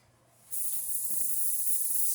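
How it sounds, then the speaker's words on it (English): A steady, close hiss of avocado oil spray mist on an air fryer oven's basket rack begins abruptly and continues without pause, loud and even. "we have to spray the basket rack"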